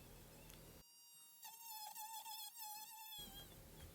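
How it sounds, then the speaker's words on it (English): A right angle die grinder whining at a high pitch while power carving a face's nose, mouth and beard, a thin mosquito-like squeal that wavers and rises and falls in speed after a burst of louder grinding. "the right angle die grinder. It's got this high pitched squeaky noise on it."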